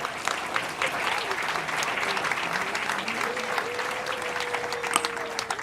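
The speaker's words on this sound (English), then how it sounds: "a round of applause for them as well." A crowd at a groundbreaking ceremony claps steadily in a large room, dense applause holding at an even level throughout.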